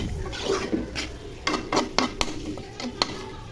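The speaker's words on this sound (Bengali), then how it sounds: "মাংস নেড়ে চেড়ে ঢেকে দিব।" Chicken pieces stirred into fried spices in a cooking pot for a spicy potato and chicken curry, with irregular clanks and scrapes of a spoon against metal over a faint sizzle.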